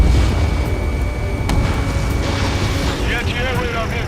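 A destroyed anti-air radar vehicle explodes in the Ace Combat 7 combat flight game, a loud sustained rumbling blast with crackling debris and a sharp bang partway through, set against roaring jet engine noise.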